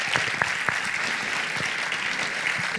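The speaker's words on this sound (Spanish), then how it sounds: "Un fuerte aplauso para cada uno de nuestros invitados." An audience at a church gathering claps for invited guests, a steady, moderately loud wash of applause with a few sharper individual claps standing out.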